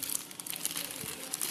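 Plastic packaging around the wall anchors included with a Bosch GSB 550 drill kit crinkles and rustles steadily up close as it is peeled open, with no talking.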